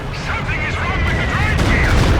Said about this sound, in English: We have a Stuka bombing strike coming in on the ISU.